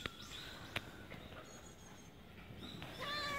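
Several cats meow at feeding time in a forest, a few faint, thin high cries scattered through the quiet outdoor background, with a clearer meow near the end.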